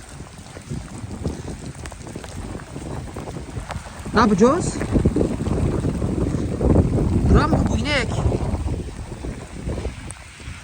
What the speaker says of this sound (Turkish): Yağmur yağmur geldi Karadeniz'e